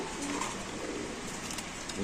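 Racing pigeons at a Bangladeshi pigeon market coo softly in a continuous murmur of several birds, with people talking nearby under the steady bird sounds.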